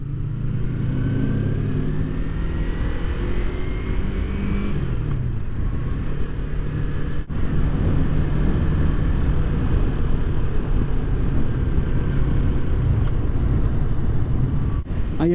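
A Yamaha MT-03 motorcycle cruising down a highway, with steady engine drone and gear whine under heavy, constant wind roar throughout, and a brief dip partway through.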